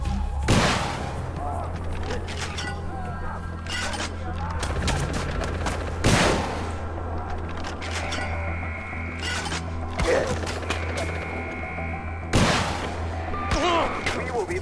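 Gunfire from a newly acquired gun in Far Cry 4, with a few sharp, loud shots rising above a dense, steady wash of game background noise and a low hum.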